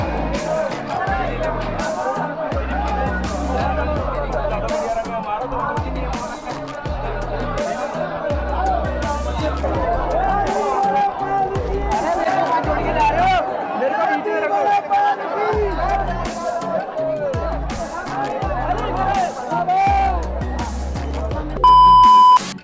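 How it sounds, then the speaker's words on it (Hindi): Crowd noise at the Banke Bihari temple in Vrindavan during Holi: dense, continuous chatter and babble from many people, with music and beeping tones layered through the steady din. "तो भैया वहाँ भीड़ कुछ ऐसी थी।"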